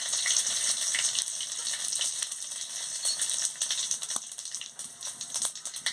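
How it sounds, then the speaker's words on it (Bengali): Panch phoron and dried red chillies sizzle in hot oil in a kadai, a steady bright crackling hiss with small pops running throughout, fairly close and with no talk over it. "তেল গরম হয়ে গেছে, 5 ফোড়ন আর শুকনো লঙ্কাটা দিয়ে দিচ্ছি।"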